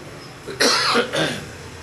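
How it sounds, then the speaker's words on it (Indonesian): Two quick, rough coughs close to the listener, the second slightly softer, in an otherwise quiet room. "Batuk terjadi dengan izin Allah."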